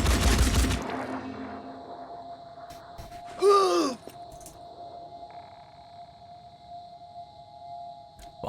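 Gunfire in the Phoenix Point tactical game: a loud burst of rapid shots at the start, then a whooshing, sweeping effect in the middle over a steady electronic hum, with a low ambient drone throughout.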